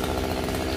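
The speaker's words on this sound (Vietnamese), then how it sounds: "hiện tại là anh Tùng đang cưa cây lâm dồn, hay cây này người ta còn gọi là cây bồ đề" A chainsaw cuts into the trunk of a Bodhi tree, its engine droning loud and steady at close range with a dense, unbroken buzz and no voices.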